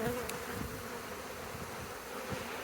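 Honeybees buzz steadily at close range at a hive, a dense humming drone with individual bees zipping past the microphone.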